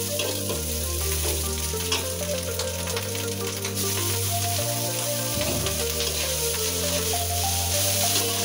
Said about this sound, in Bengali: এবার পেঁয়াজ কুচি, কাঁচামরিচ গরম তেলে ভেজে